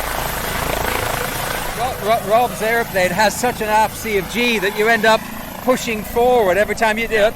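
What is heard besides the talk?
helicopter flying past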